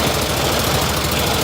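An old engine being run to burn off year-old gas ahead of a rebuild, heard as a loud, steady, rough running drone that continues unbroken through the short stretch.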